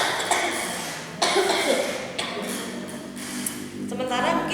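A person coughs repeatedly, several loud, close bursts in a row, separated by short pauses.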